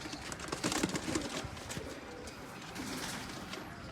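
Pigeons coo softly amid a busy, noisy background, their low throaty calls repeating a few times close by.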